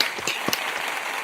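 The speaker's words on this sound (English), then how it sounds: "let's give him a round of applause" Applause from an audience at a talent and jobs event, a moderate, even patter of many hands with a few sharper claps standing out, fairly distant and continuous.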